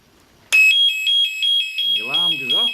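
Aftermarket car alarm blaring as the ignition is switched on, a loud steady electronic siren pulsing in repeated bursts, with someone talking over the last second.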